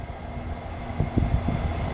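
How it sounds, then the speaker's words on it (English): A Norfolk Southern northbound intermodal freight train passes in Marion, Ohio, a low steady rumble with rhythmic clunks of wheels over rail joints building toward the end, heard from trackside with no voices. "But that was Norfolk Southern 277."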